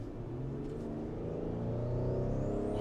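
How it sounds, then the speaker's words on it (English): Engine of a 2023 Ford Explorer ST accelerating on the road, a steady mid-pitched drone with a rising whine building in loudness toward the end, heard from inside the car with no talking. "this car definitely does move. Has a very nice sound to it"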